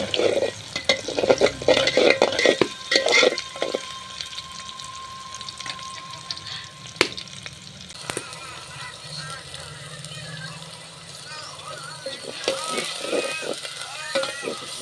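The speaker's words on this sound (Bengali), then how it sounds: "এখন হচ্ছে পেঁয়াজগুলোকে ভালোভাবে একটু ব্রাউন কালারভাবে ভেজে নেব" Onions fry in a pan while being stirred, giving a soft sizzle with intermittent scraping and clinks near the start and end and quieter frying between.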